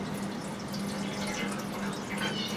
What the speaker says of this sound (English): I'm gonna pour in some water.